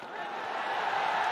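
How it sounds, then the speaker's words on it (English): Dense, steady roar of a cricket stadium crowd cheering during an England–Bangladesh T20 international, a continuous broadband wash with no breaks. "listen to the crowd"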